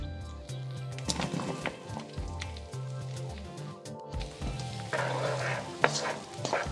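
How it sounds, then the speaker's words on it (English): Chunks of white onion sizzle in coconut oil in a hot wok, tossed and scraped around with a soft, steady frying hiss and intermittent clatters of the utensil against the pan. "Now you want to keep this onion moving around your wok for probably about a minute or so until it just starts to go translucent"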